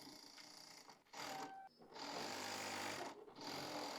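A sewing machine runs in bursts while stitching a half-inch folded fabric hem on winter palazzo pants, steady whirring stitch runs broken by short pauses, fairly close and clear.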